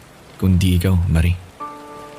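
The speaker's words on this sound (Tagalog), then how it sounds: "Medyo mahina na yung ulan." Rain falls steadily in the background as a steady hiss while a person speaks over it.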